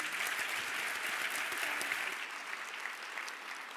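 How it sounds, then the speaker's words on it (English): Sustained audience applause for the panelists at the Rise to the Top International Women's Day event, a thick even patter of many hands that eases slightly toward the end. "Let's give another round of applause for our panelists."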